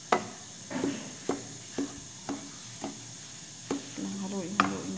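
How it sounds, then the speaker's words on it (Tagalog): Polvoron mixture of milk powder being stirred in a pan, with regular scraping strokes about every half second over a soft sizzle, close and alone with no talking. "Haluin natin ang mabuti."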